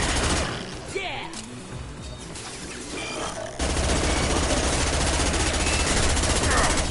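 Rapid-fire weapon shooting in the sci-fi video game Mass Effect 2, a dense, continuous burst of automatic gunfire that grows louder partway through, mixed with crashes and game sounds, with a voice talking over it.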